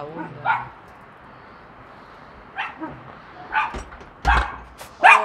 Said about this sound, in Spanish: Otro perrito perritos